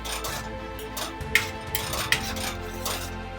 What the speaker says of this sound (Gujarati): બધું હવે આને હલાવી લઉં છું.